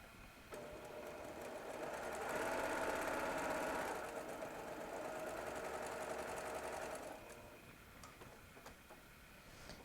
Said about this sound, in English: So we're going to stitch this little piece right here.